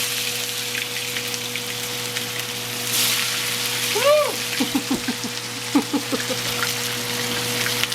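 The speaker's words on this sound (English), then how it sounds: "now we're gonna put our fish in the fryer" Fish drops into hot oil in a deep fryer partway through and sets off a sizzling, bubbling crackle over a steady appliance hum. A short exclamation and brief talk are heard nearby.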